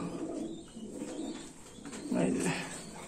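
Pigeons coo in low, throaty phrases, close by, with a louder burst near the end over faint room noise.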